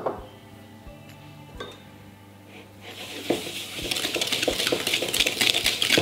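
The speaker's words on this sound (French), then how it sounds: "mettre dans un récipient le Philadelphia, ainsi que notre sucre, et on va venir travailler le tout au fouet" A whisk works Philadelphia cream cheese and sugar in a bowl. Scattered metallic clinks come first, then a fast, continuous, rhythmic scraping whir close by.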